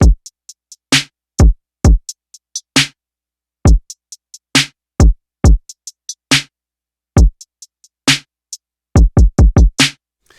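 A programmed drum beat from Maschine plays alone, with punchy kick and snare hits and crisp hi-hat ticks falling in a steady, syncopated groove, loud and clean throughout.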